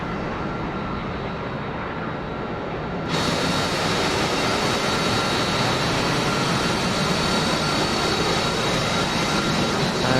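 Harrier jet in a flight simulator game, a loud continuous roar of engine noise that steps up sharply in intensity after a few seconds and then holds steady.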